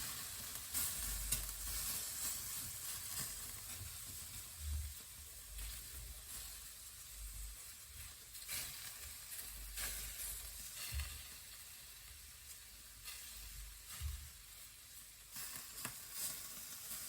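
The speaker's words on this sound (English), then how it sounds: "So I'm going to grill my prawns on this grill here quickly." Jerk-seasoned prawns sizzle steadily on a grill, a continuous bright hiss with soft crackles and occasional low thumps from stirring or turning, close by and with no talking.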